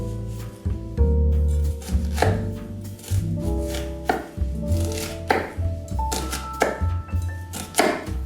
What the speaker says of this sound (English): Chop the onion finely.